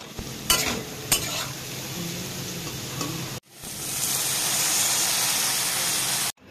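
Potato curry with turmeric frying in a pan and being stirred, a few scraping spoon strokes over sizzling, then a loud steady hiss of frying that cuts off abruptly; no talking.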